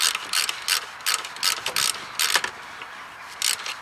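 A hand ratchet clicks in quick uneven bursts while working on an alternator bolt in a garage, close and crisp, with short pauses between strokes and no talk.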